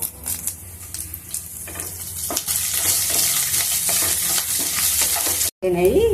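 Curry leaves frying in oil in a pan for curry-leaf pulihora, a loud crackling sizzle with spatula scrapes and stirring knocks, building after the first two seconds, then a brief dropout before a short tonal sound.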